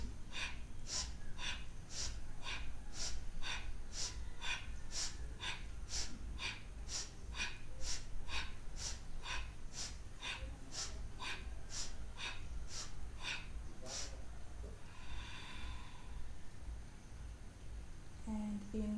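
Rapid rhythmic breathing exercise, a fast series of about thirty sharp nasal breaths in an even pulse, close and clear, ending in a slower, longer breath and then quiet.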